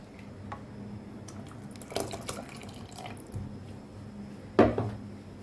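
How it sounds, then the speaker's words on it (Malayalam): Half a cup of water is poured into a mixer jar, swirled, then tipped into a Kerala-style curry, giving brief splashing pours with a louder gush near the end over a low kitchen hum. "ഈ മിക്സിയിലേക്ക് ഒരു അര കപ്പോളം വെള്ളം ഒഴിച്ചിട്ട് ഒന്ന് ചുറ്റിച്ച ശേഷം ഇതിലേക്ക് ഒഴിച്ചു കൊടുക്കും"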